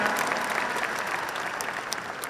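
An audience at a success event claps in steady, dense applause that runs through the whole moment, loud and close, with no speech over it.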